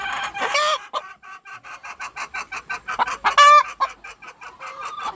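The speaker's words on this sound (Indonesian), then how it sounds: "Ayam ini bertelur seperti ayam kampung biasa ya" Laying hens cluck in a series of rapid, rhythmic calls at a free-range style village chicken coop, loud and close, with a sharper squawk partway through and no talking.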